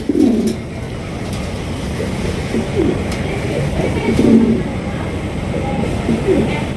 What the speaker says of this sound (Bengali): এখানে রয়েছে চমৎকার একজোড়া হাই কোয়ালিটির ক্রিম বা বিউটি কবুতর